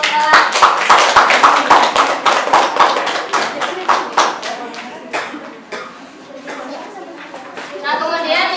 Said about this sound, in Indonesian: Beri tepuk tangan untuk Ella.